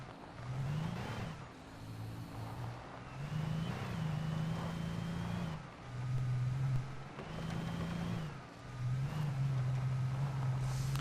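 A car drives along in the video game Alan Wake, its engine humming at a low, steady pitch that swells and dips in repeated waves under faint background music.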